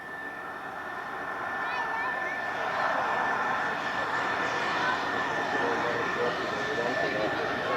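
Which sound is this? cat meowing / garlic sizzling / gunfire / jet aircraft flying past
jet aircraft flying past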